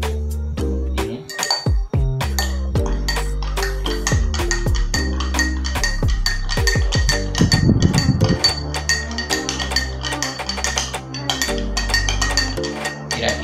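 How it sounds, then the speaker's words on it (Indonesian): A utensil stirs a colloid solution in a glass container, producing rapid, repeated bright clinks and taps against the glass, loud and close, with a steady rhythm throughout. "Kemudian langkah selanjutnya adalah kita aduk larutan"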